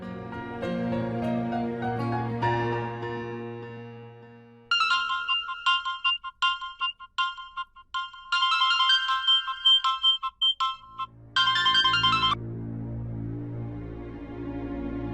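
Mobile phone ringtone for an incoming call: a melodic tune gives way to bright, chiming electronic pulses that repeat in bursts, clear and close, with no voices.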